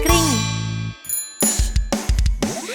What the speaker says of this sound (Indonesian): Dengarkan sepedaku berbunyi kring.